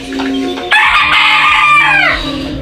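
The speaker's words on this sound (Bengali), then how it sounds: "মিশরীয় ফাউমি মুরগগুলা" Egyptian Fayoumi chickens at a hatchery in Baniachong cluck close by, then a rooster gives a loud, drawn-out crow that rises and falls over about a second and a half, with clucking continuing underneath.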